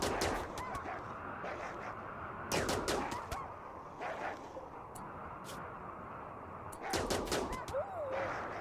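Charge rifle shots aimed at wargs in the video game Rimworld, heard as clustered bursts of sharp cracks at the start, near 2.6 s and again near 7 s, over a steady background hum.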